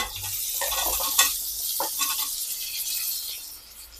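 Masala with shallots frying in a pan for village-style country chicken curry: continuous sizzling close by, with a few scraping stirs and light clinks of a utensil on the pot.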